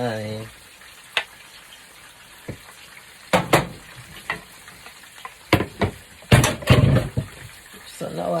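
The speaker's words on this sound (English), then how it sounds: "So now I got my fish on the fire." Fish frying in a pan on the fire, a soft sizzle under scattered louder clatters and knocks from the cook working nearby; a brief voice-like sound opens the clip.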